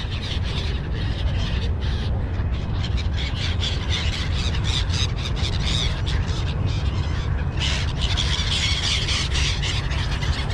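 Dense flock of birds squawking and squealing at Al Shindagha on the Dubai waterfront, continuous loud overlapping calls close by with constant outdoor background noise.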